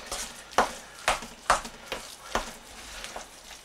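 A leek, potato and cheese pie filling is stirred in a bowl, giving a series of distinct scraping, squelching strokes roughly every half second, close and moderately loud, with no talking.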